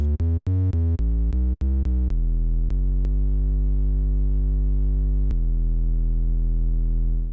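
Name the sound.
clean sub bass synth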